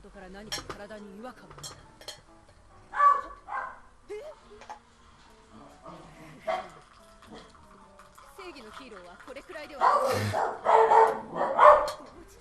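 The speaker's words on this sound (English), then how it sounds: "Dogs!" Dogs barking in the SNK Heroines fighting game, a cluster of loud barks near the end following sparser yelps and game effects, with commentators talking throughout.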